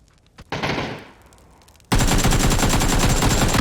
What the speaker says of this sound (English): Shots coming out there from Phantom as Naku just pulls himself